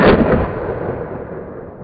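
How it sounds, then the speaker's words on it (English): A single loud gunshot from a KRISS Vector submachine gun fired in semi-auto, a sharp crack at the start with a long booming echo fading over about two seconds. "Shoulder the submachine gun, push the safety forward, press the trigger to fire."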